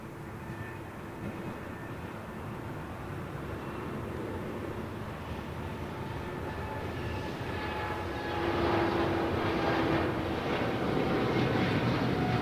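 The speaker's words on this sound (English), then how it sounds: "777 taking off to Tokyo Narita" A Boeing 777 jet taking off for Tokyo Narita at LAX gives a broad, steady engine roar that swells slightly louder toward the end, heard alone at a distance.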